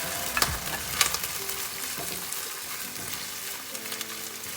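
Chopped medium onion frying in a hot pan, a steady close sizzle with repeated scraping stirs of a spoon and occasional clinks, no talking.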